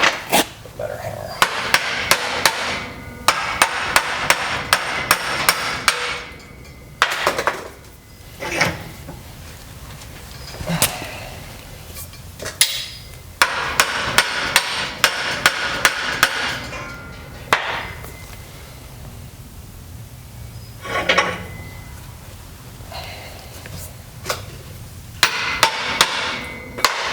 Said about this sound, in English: Better hammer.